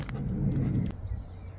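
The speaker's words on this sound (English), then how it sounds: "Apart from the odd car going past." A single car passes on a quiet road, a steady low rumble that swells and then drops away, heard alone with no voices.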